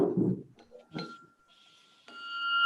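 A hand bell at a school debate is struck to end a speech, giving a clear metallic ding that rings for about a second, then a second louder strike that keeps ringing to the end. Brief talk is heard at the start.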